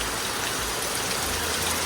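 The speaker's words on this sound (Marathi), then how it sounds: "पावसाने परत जोर धरले" Heavy rain pours steadily in a village during the monsoon, a dense, even hiss of drops with a faint low rumble beneath, unbroken and moderately loud.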